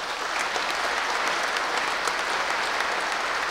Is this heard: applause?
yes